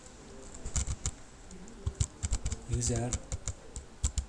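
Typing on a computer keyboard, a run of quick, close key clicks in irregular bursts, with someone speaking briefly over the tapping.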